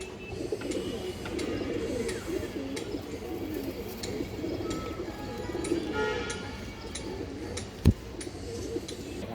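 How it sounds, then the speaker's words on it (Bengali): Silver Bagha pigeons, a running pair, coo steadily and close by in soft repeated low calls throughout, with one brief sharp knock near the end and no talk. "এগুলো কবুতর ডাকাডাকি"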